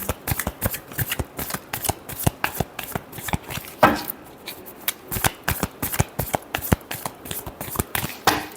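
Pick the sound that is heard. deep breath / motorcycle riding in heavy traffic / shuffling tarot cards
shuffling tarot cards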